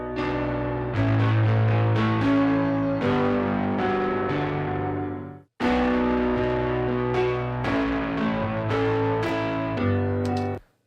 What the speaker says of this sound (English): You can also adjust distortion